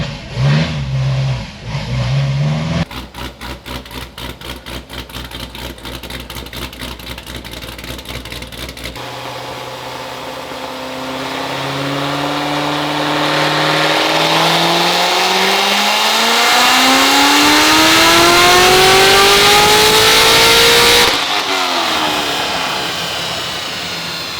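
A Stage 4 C7 Corvette Z06 running pump gas sweeps up through the revs in one long, loud pull, its engine note climbing steadily. Idle and blips come first, then a sustained roar rising to a peak before it cuts off.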